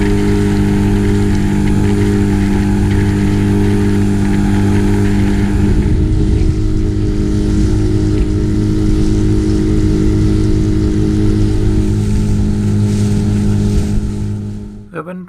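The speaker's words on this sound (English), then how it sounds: "I warmed up my trusty two-stroke outboard as Gordon launched his boat" A small two-stroke outboard boat motor runs steadily and loudly throughout, its droning hum mixed with wind and water noise, easing off at the very end.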